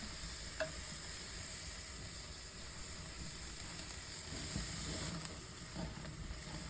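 Skirt steak searing on a hot grill, a faint, steady sizzle and hiss with a few soft shifting sounds, heard alone at low level.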